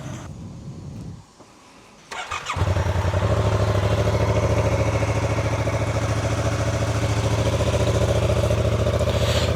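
A Yamaha MT-07 motorcycle engine starts after a brief lull and settles into a loud, steady, close idle with a low throbbing rumble and light mechanical clatter.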